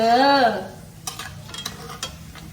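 A brief voiced tone opens, then ingredients frying in a pan sizzle quietly while a utensil stirs them with a few sharp clinks and scrapes.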